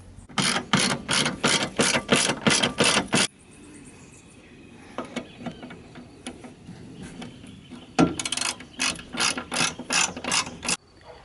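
Ratchet tightening bumper nuts on a 1968 Volkswagen Beetle, rapid close clicking bursts in two runs separated by a pause filled with faint mechanical taps.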